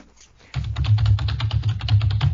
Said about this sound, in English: it's always that loud no matter how gently I type on this keyboard